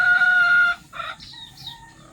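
A hen about to lay an egg gives a drawn-out, tonal squawk followed by a few shorter clucking calls, close and clear against a quiet yard.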